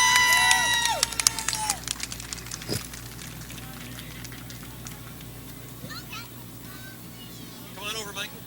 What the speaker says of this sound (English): Give him a nice round of applause, everybody.